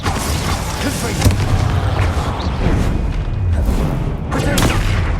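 The Confringo spell in Hogwarts Legacy bursts in loud, booming blasts amid a dense, continuous roar of magical combat, with several sharp impacts standing out.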